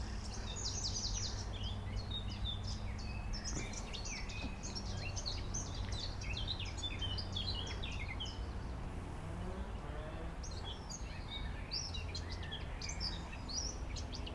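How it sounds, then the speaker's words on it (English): Birdsong in Stanley Park: many small birds chirp and trill at a moderate distance, scattered over a steady outdoor background hum, with no voices. "the birds are sounding amazing today"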